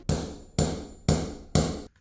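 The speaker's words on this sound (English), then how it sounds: "Take your fitment tool, pop it open, slide it onto the stem and hammer it." Four sharp taps spaced about half a second apart, each with a short ringing tail, from a keycap being hammered onto a keyboard switch stem using a fitment tool.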